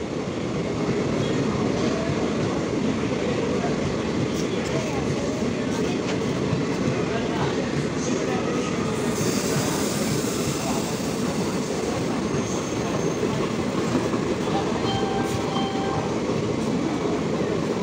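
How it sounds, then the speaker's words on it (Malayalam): Passenger train rolling through a station along the Tirur to Bangalore route, a steady loud rumble of wheels and cars running the whole time, with faint station ambience and a swell of noise around the middle as it passes close. "ഒരു ട്രെയിൻ വരുന്നുണ്ട്."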